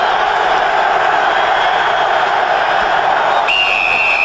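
A huge Baltimore Ravens football stadium crowd roars in a dense, sustained wash of noise. The cheering stays constant and loud throughout, and a sharp whistle-like tone cuts in near the end.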